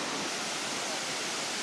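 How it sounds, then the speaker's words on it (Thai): Sarika Waterfall in Nakhon Nayok, Thailand, pours as a loud, steady broadband rush of falling water, heard close with no voices over it. "ในที่สุดครับเราก็มาถึงแล้วครับน้ำตกสาริกา"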